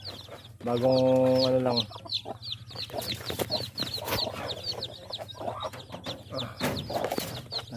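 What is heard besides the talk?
Shamo chicken and newly hatched chicks clucking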